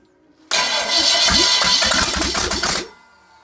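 An FE360 engine cranks and catches, bursting into a loud, busy run with rapid uneven firing pulses for a couple of seconds before cutting out abruptly, close to the microphone.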